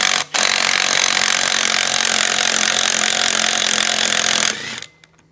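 A threaded bolt is driven in with a power tool to press the spindle out of a Tilmor 520 tractor's final drive, giving a steady, loud, close grinding whir for about four seconds before it cuts off.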